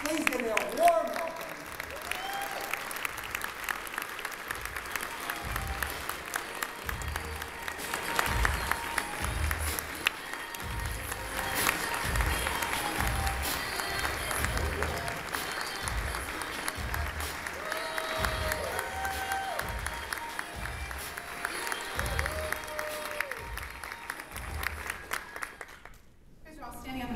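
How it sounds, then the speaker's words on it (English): Audience applause and clapping at a Victory Fund event in Chicago greets a congresswoman as she is introduced, a sustained dense patter running steadily for nearly half a minute with some cheering voices mixed in, fading near the end. "Clapping"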